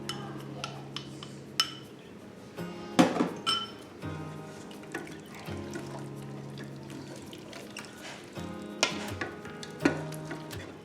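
A spoon stirs a cornstarch slurry into the sauce of Swedish meatballs inside a Ninja Foodi pressure cooker pot, giving close scraping and swishing with a few sharp knocks against the pot's sides.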